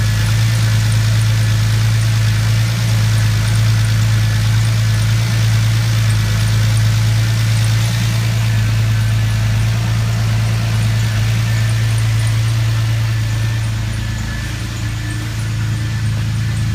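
A 2000 Lincoln LS engine idles steadily and close by, giving an even low hum with a faint vibration and no revving, heard alone.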